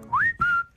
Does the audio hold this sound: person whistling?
yes